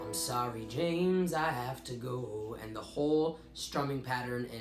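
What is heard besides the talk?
No everyday noise stands out behind the speech.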